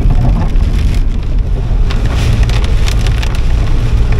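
Heavy rain falls during stormy weather in Aurich, East Frisia: a loud, dense and continuous downpour drumming on surfaces, with no voices.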